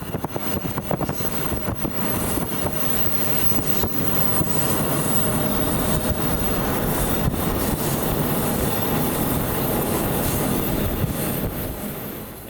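A brand-new Amtrak Airo train rolls along the rails with a continuous loud rumble, rhythmic wheel clatter and occasional squeals, heard up close for the whole stretch.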